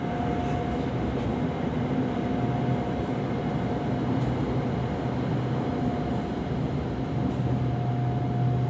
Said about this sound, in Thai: ขบวนนู้นก็คือขบวนไปลังสิตนะฮะ